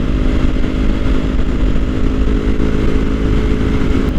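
Kawasaki Ninja 400 motorcycle engine droning loud and steady while riding, a constant close rumble with wind noise and no breaks.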